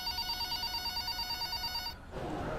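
An old-style telephone bell rings steadily and loudly in a Hindi-dubbed South Indian film scene, cutting off near the end as the handset is picked up, followed by a brief burst of room noise.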